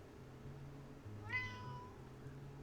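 A single faint, short meow from a house cat, heard alone over a quiet background hum.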